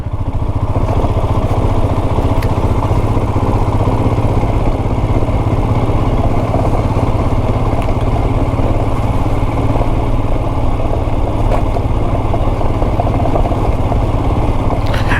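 A motorbike rumbles steadily and loudly while riding across slippery, smooth stone ground near Kuldhara in Rajasthan, its engine droning without pause and mixed with faint clattering.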